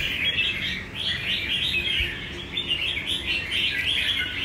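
A caged pet songbird, a chòe, sings steadily and close by in a continuous run of bright chirps and warbles, with no voices.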